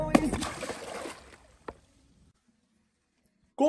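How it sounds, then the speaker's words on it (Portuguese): A JBL Boombox 3 portable speaker is tossed into water, giving a loud splash and sloshing that fade over about a second and a half, then a brief knock, near silence, and a sudden burst of sound at the end. "Vamos jogar na água. Tomara que não afunde"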